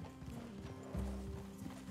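Horse hooves clop in an irregular rhythm in Red Dead Redemption 2, with a low, brief snort or whinny midway, all heard against a quiet outdoor backdrop.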